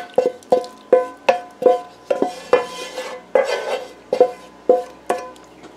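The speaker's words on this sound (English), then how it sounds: "Give it a good mix up. This is where the whisk comes in real handy." A whisk clinks steadily against a metal soup pot as a roux thickening mixture is beaten into the soup, about a dozen close, rhythmic scraping strokes with no talk.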